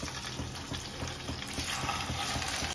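Thick round slices of taro root fry in oil with a dense, continuous bubbling sizzle at moderate level and no pauses.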